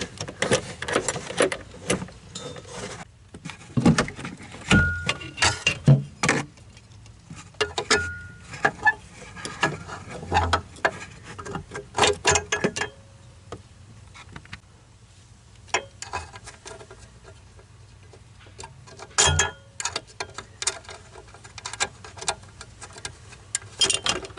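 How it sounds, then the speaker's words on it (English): A 10mm wrench tightens the 12v battery terminal on a 2013 Toyota Prius, making bursts of quick, close ratcheting ticks and small metallic clinks, repeated in short runs with pauses. "And then you use your 10mm wrench until it doesn't want to come off."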